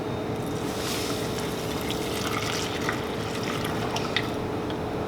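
Water poured into a pot for making pepper polenta, a steady rushing splash that continues evenly throughout, close and fairly loud with no talk.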